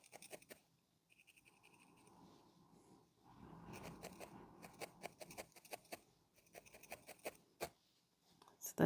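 Scissors snip and trim material for a woodland advent craft, making quiet, close clicks and scratchy cuts in uneven bursts with short pauses between them.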